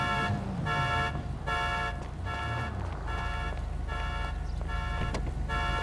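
A car alarm in GTA V sounds loud and close, a repeating electronic tone pulsing in steady on-off cycles over a low engine-like rumble.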